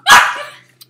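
A single loud, close dog bark that trails off quickly, followed by a faint brief click, with no talking.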